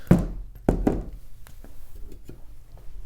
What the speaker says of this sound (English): Let me go ahead and shoot one shot with the V3.